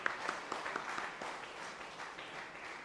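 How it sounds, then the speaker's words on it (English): A seminar audience at a finance event applauds the panel, a faint, distant, even patter of clapping filling a hall. "please join me in giving a huge round of applause for today's panel"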